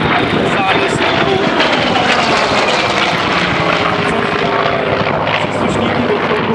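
A military helicopter flies at the 2011 Memorial Air Show in Roudnice nad Labem, giving a loud, steady, close rotor and engine roar mixed with wind buffeting on the microphone.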